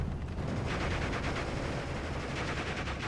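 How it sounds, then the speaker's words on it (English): Dense, continuous gunfire rattles through a World War II strategy video game battle as airborne troops land firing their machine gun, with rapid bursts and heavy combat noise sustained loudly throughout, with no talk. "They're landing using their machine gun."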